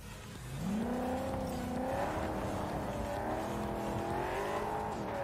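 A car engine in Cyberpunk 2077 drones steadily, its pitch climbing as it accelerates after a quiet start, then holding a smooth, sustained hum with slight rises and dips while driving.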